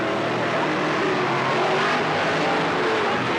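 Dirt track race cars roar around Cottage Grove Speedway in 1991, a loud, steady wash of engine noise from the pack with announcer commentary running underneath.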